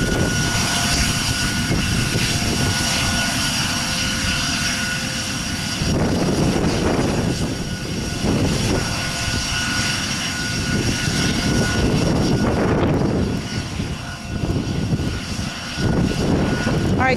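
A fixed-wing airplane engine drones steadily at Aurora Municipal Airport, loud and continuous with swelling surges as the aircraft moves toward the runway for takeoff, heard outdoors with no clear talk.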